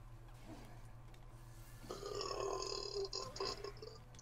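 A loud, drawn-out burp rises out of a steady low background hum during a Medievil gameplay session and rumbles on for about two seconds before fading.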